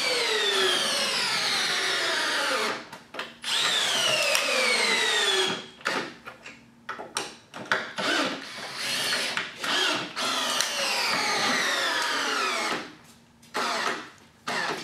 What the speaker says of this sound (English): It sunk both two of the three fasteners and sunk the third fastener deeper.